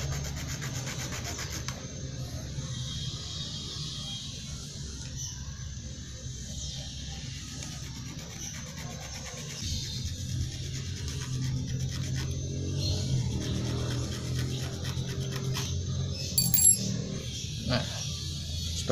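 Hand file rasping a notch into a motorcycle sprocket gear for an MN 99 conversion, a steady low scraping rub running throughout, close and continuous with slight rises toward the end.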